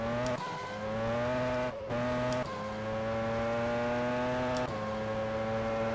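A 1996 Formula One car in the rFactor 2 racing game, its high-pitched engine wailing steadily in second gear, with abrupt gear-change dips and a brief cut in the note, loud and close with no talking.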